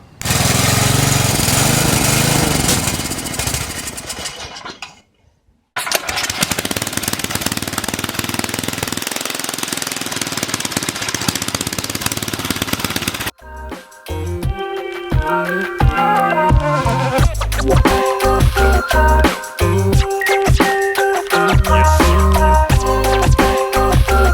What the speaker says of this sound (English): I'm just gonna pop it on the engine and rev it up